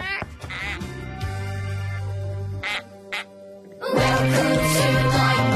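Cartoon ducks quack in a rapid series of loud, nasal calls, pausing briefly before a denser burst of overlapping quacks near the end, with no talking over them.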